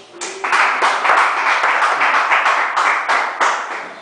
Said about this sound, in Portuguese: Pode sentar e louvar a Deus com as palmas bem fortes.